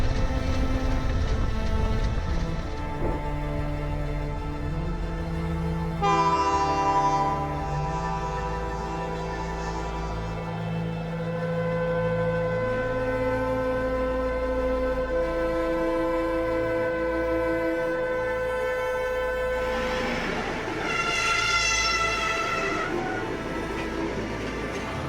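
A Bennett Brook Railway steam locomotive draws closer, sounding long whistle blasts over a rumbling chuff that swells toward the end.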